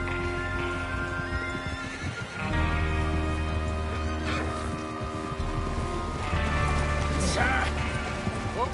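Horses whinny a couple of times amid clopping hooves and mechanical clanks, with steady harmonic background sound, in the video game Red Dead Redemption 2.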